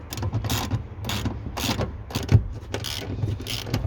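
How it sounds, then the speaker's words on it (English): Ratchet fitted with a 14mm socket loosening factory seat bolts on a 2017+ Toyota Landcruiser 79 Series dual cab: a run of quick, close mechanical clicks in repeated bursts with a brief louder knock midway. "You just remove the two factory seat bolts with your 14mm socket."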